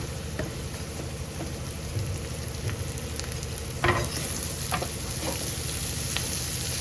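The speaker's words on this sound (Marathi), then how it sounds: "आता मिरच्या घालून घ्यायच्या" Green chillies fry in a pan for a Maharashtrian dal mirchi, giving a steady, dense sizzle throughout, with a few sharper crackles and pops and a louder spatter near the middle.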